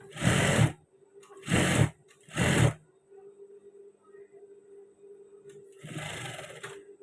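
A sewing machine stitches the side seam of a pair of trousers in four short whirring bursts. Three come in quick succession, then after a quiet pause a longer final run follows, close and clear.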